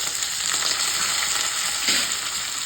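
Cut potatoes fry in hot oil with dried red chillies, giving a steady, close sizzle and crackle that holds evenly throughout with no voices over it.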